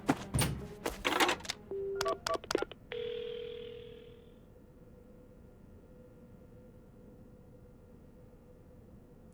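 Phone booth dialing in the video game Paranormasight: a quick run of clicky button presses and clunks, then a steady electronic tone that drops to a faint, hollow line hum, heard alone without voices.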